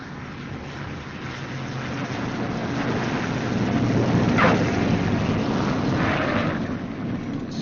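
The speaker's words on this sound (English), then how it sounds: "The B-29 lands at 90 to 110 miles an hour." A four-engine B-29 bomber comes in to land at about 90 to 110 miles per hour, a steady, broad roaring rumble of engines and rushing air that swells slightly midway and stays constant throughout, with no talking.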